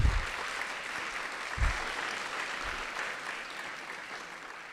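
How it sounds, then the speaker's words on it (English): Applause from an audience for principals and donors at a university iSchool 75th anniversary celebration, a quiet, steady wash of clapping lasting the full stretch, fairly faint and distant, with a few low thumps near the microphone. "let's give them a round of applause as well"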